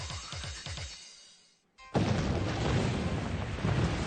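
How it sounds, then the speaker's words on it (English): After a moment of near silence, a loud, broad roaring blast erupts and rumbles on continuously, heavy and close. "Explosions."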